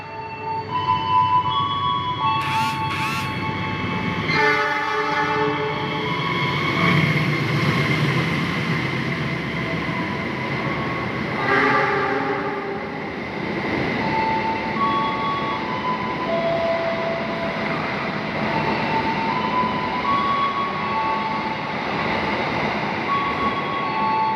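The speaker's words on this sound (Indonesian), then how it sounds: "ini dia kereta api Argo Bromo Anggrek KA nomor 4 melintas langsung stasiun Tegal" Argo Bromo Anggrek express train running straight through Tegal station without stopping, a loud continuous rumble of wheels and carriages with a brief horn blast early on, close and steady throughout.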